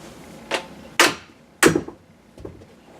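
Four sharp hammer blows land on wood at uneven intervals, the middle two loudest, with quiet pauses between strikes.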